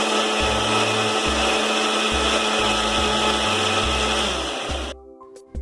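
An electric mixer grinder whirs loudly while blending homemade mayonnaise ingredients, running in repeated pulses with a low rhythmic thump before cutting off abruptly near the end, leaving a faint ringing tone.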